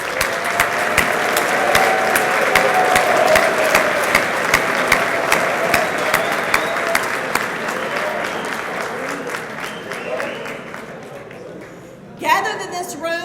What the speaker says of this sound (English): So can we give your coaches a round of applause?